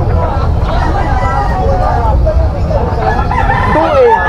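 A rooster crows amid the babble of a busy Malabon pet market selling chickens, with people talking close by throughout.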